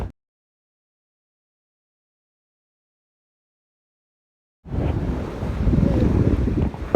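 Steady wind and surf on the Gulf of Thailand shore at Pattaya rise suddenly after a long silence, a broad, close rushing roar with no talking.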